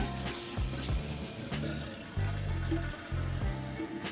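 Water refilling a toilet tank after the supply line is reconnected: a steady hiss of running water with irregular gurgling bursts, fairly faint and nearby.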